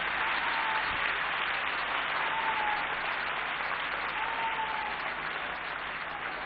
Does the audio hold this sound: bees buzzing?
no